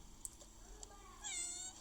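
A cat gives a single drawn-out meow near the end, preceded by faint soft taps, quiet and close.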